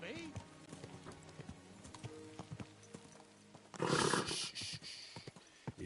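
Horse hooves clip-clop steadily in Kingdom Come Deliverance 2, with a snort partway through and a louder rush of movement near the end, while a voice talks over the hoofbeats.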